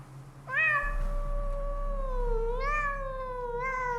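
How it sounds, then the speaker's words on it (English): A loud cat in the video game Pathologic 2 gives a long, drawn-out meow with a rising second call near the end, clear and close over a steady low hum, with no talk. "There's a loud cat."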